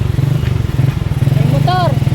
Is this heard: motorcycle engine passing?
yes